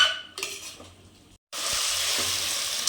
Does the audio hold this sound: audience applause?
no